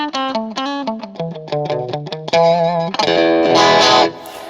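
A Fender Lead II electric guitar plays a quick run of bright, snappy plucked notes, then a button-switched effect turns the tone into a thick, sustained, distorted chorus-like wash. It is loud and close, with no talking.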